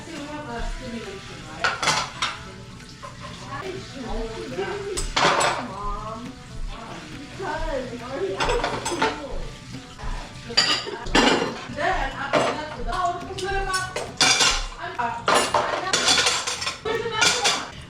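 Dishes, pots and cutlery washed by hand while wearing gloves: repeated close clinks, clatters and scrapes of metal and ceramic, with splashing water and brief voices in between.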